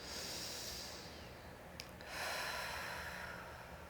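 A deep breath drawn during a yoga practice: a long, close airy inhale followed by a brief pause and a slow, full exhale, heard alone and fairly faint.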